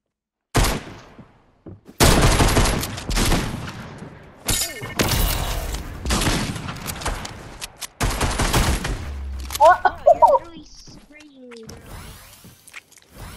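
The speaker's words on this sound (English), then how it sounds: "I'm using a pistol, by the way." Pistol gunfire in the Fortnite video game: loud, sharp shots in rapid bursts with impacts and game effects, a short electronic chime near the end, over a busy game soundscape.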